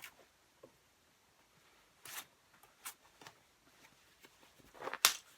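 The zipper on a lined green canvas bucket bag is pulled in a few short, quiet rasps, with soft handling rustles between them in a hushed room.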